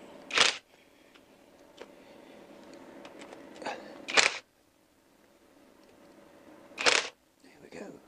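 An impact gun undoes three small bolts on the crankcase of a Honda CBR1000F motorcycle, firing in three brief, sharp bursts spaced seconds apart, with quiet shop background and faint handling noises between them.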